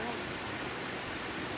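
A waterfall in Sa Pa, Vietnam rushes in a steady, broad roar of falling water, constant and moderately loud with no breaks.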